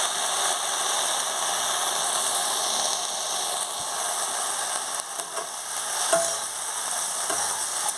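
Pumpkin greens stir-fried with softened onions for a fish-oil fritter curry, giving a steady, fairly loud broadband sizzle throughout, with occasional faint scrapes and clinks of a stirring utensil and no talking.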